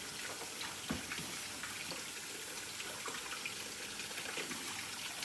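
A tap runs warm water for a donut yeast mixture, a faint, steady trickle and splatter close by in a quiet kitchen.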